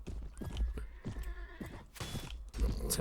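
Charging horsemen's horses in a Mount and Blade: Warband battle, with several loud close neighs and whinnies over rapid clip-clop hooves, in bursts across a few seconds.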